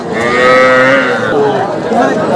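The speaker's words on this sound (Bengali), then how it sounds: "আমরা এইদিকে বেশ মোটামুটি ছোট ছোট বাছুর গরুগুলো দেখতেছি আজকের বাজারে" Young calves lowing at a busy cattle market, a steady chorus of close, loud moos filling the whole stretch with little pause.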